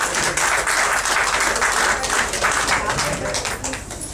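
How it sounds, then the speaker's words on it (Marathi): Audience applause at a state-level poetry gathering honouring an award-winning singer: dense, steady clapping that fills the hall throughout, loud and close, with no pause. "जोरदार टाळ्या वाजवा."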